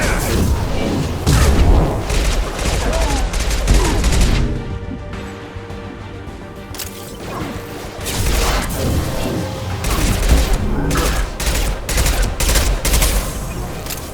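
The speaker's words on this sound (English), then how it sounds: "Taking heavy fire!" Heavy gunfire and explosions in the video game Mass Effect 2, sustained loud automatic bursts mixed with booming blasts, a brief lull in the middle before the shooting surges again.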